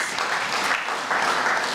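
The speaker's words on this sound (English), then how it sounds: "Please, let's give this man a round of applause." Lecture audience giving a brief round of applause for an honoree, a short burst of many hands clapping, moderately loud and continuous with no speech over it.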